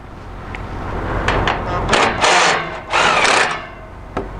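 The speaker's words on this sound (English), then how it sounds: "Run the nuts up with an impact if you wish" Several short bursts of an air impact wrench rattling as it runs lock nuts onto a U-bolt, with brief pauses between runs and sharp clicks.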